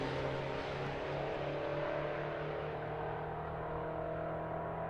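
A Datsun drag race car accelerating down the strip at a race week event, a steady sustained engine drone at moderate distance with no talking.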